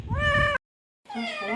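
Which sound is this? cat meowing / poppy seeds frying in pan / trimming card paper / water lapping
cat meowing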